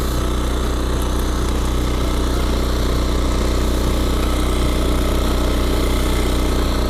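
Yanmar A-10V one-metre-wide rotary cultivator tilling a field in third gear, a loud, steady engine drone with constant rotor churning, close and unbroken.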